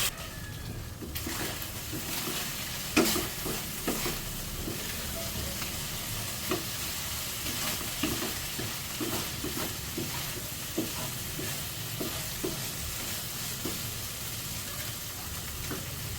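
Spaghetti pasta sizzling and frying in a pan while being stirred, a steady close hiss with scattered scraping clicks and taps of the utensil throughout.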